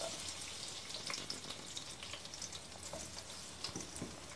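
Onion dropped into hot oil with a bay leaf and cloves, giving a soft, continuous crackling sizzle at low level throughout, with no talking.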